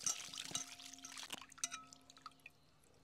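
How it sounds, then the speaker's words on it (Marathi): Dried Bombay duck fish washed by hand in a bowl of water, with quiet splashes, drips and pouring sounds, light clinks and a faint tonal hum underneath, fairly soft and close. "दोन तीन पाण्याने बोंबील धुवून घ्यायचं"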